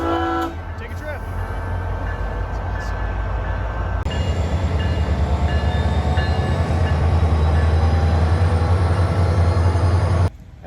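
A SunRail commuter train in Florida rumbles past with a deep, heavy low drone and rising rail noise that swells and holds loud before ending abruptly, with faint tones near the start.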